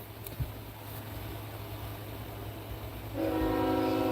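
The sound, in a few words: train passing by with horn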